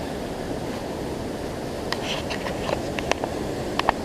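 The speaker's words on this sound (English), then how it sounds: "You can hear the water rushing through the tunnel." Floodwater rushes through a flood channel tunnel at Piney Point Gulch in Houston, a steady broadband roar with a few faint clicks and taps over it, heard from a short distance.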